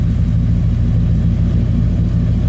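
A 1959 Chevrolet Impala convertible with a 348 cubic inch V8 and dual exhaust idles steadily, a loud, continuous low rumble from close by with no voices over it.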